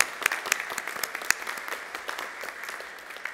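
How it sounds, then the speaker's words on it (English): Congregation in a church at Sunday worship breaks into steady applause, a dense, even patter of many hands with a few sharper nearby claps, continuing for a few seconds at moderate loudness without speech. "So I want to give Ray Maya and Kent Stevenson a round of applause."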